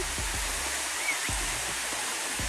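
Flowing river water rushes in a constant, close roar, with a few low thumps underneath.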